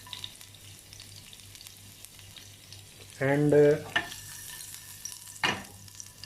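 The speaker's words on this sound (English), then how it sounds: "So it starts sizzling" Chopped garlic dropped into already-hot oil in a pan sizzles briefly and sharply for about a second, followed by a few short stirring scrapes and faint background noise as a child cooks keema at home.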